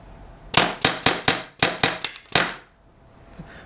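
Tippmann TIPX paintball marker running on CO2, firing a quick string of about seven sharp cracks with a brief pause partway through, close and loud, then quiet.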